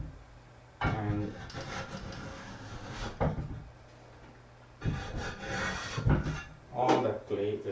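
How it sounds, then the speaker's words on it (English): A metal scraper rasps along the inside of a pottery clay extruder, clearing out leftover clay in several separate scraping strokes with pauses between them, close and moderately loud. "So I'm just running this scraper on the inside"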